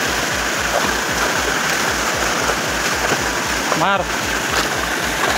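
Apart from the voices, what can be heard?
ChaulaBhuja waterfall flowing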